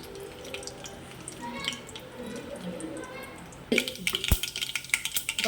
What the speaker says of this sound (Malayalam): അപ്പോൾ കടുക് പൊട്ടി തീരാറായി